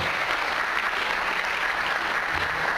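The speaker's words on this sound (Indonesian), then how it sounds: "Tepuk tangan, luar biasa." An audience at a motivational seminar applauds continuously, a thick, even roar of many hands clapping at once that holds at a steady level for the whole stretch.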